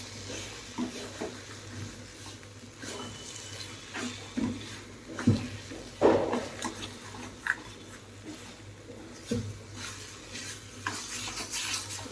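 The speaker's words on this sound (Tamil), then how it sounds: "பண்ணிவிட்டு இதெல்லாம் நல்லா கலந்து விட்டுக்குங்க" Spices and masala being stirred in a pan while cooking a chapati kurma, with scraping and clattering of a spoon against the pan, light sizzling beneath, and intermittent sharper knocks over about twelve seconds, no talk.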